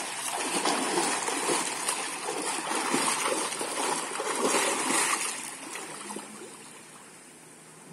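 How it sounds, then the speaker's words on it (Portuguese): Water splashes steadily as a swimmer demonstrates backstroke, rhythmic churning and slapping strokes at moderate distance for several seconds, fading toward the end, with faint background voices. "o professor vai demonstrar uma vez o nado de costas."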